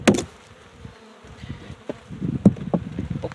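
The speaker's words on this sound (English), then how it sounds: "I'm gonna knock these bees off." Honeybees buzz close by as they are knocked off a hive frame during spring feeding on a rainy day. Two sharp knocks sound over the steady hum of the bees.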